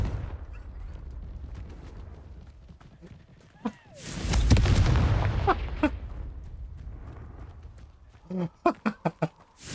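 A Confringo explosive spell cast in Hogwarts Legacy bursts loudly at mid-clip into a broad, sustained roar, with softer game sounds before it and a quick run of sharp thuds near the end.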